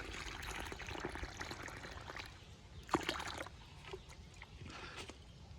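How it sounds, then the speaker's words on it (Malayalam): Water is poured over plants in a home vegetable garden in summer, a steady, fairly faint splashing flow that runs throughout with no voices. "ഇത്തിരി വെള്ളം ഇട്ട് കൊടുത്തോട്ടെ"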